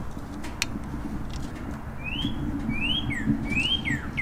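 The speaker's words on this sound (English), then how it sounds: "Bird's still chirping." A bird chirps a few quick rising whistles over a steady low rumble of background noise, fairly faint and at a distance.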